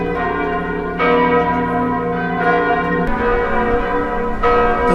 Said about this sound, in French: Responsable sonne cloche toute cathédrale en France mercredi 17 avril là pour te marquer 48 heures depuis que le feu a été commencé.